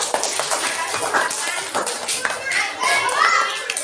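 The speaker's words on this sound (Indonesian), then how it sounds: "beri tepuk tangan buat Doni dan Tata" Children clapping for classmates in a classroom, a short burst of applause mixed with kids' chatter, close and fairly loud.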